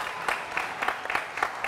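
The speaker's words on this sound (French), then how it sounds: "on applaudit encore très fort pour ça, s'il vous plaît" Studio audience applause on a French TV talk show set, a short burst of hand clapping with regular bright claps, moderate and steady, no one speaking over it.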